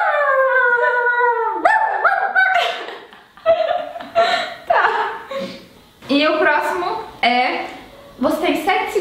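A person imitates a dog's barking and howling, drawn-out vocal howls followed by a series of short bark-like yelps, with laughter and chatter from others around.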